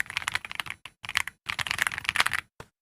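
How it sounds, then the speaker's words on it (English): Close, steady typing on an AULA F99 wireless mechanical keyboard, with dense bursts of deep, thocky keystrokes broken by short pauses and a final isolated tap. "it's got the thockiness that you look for in an awesome keyboard"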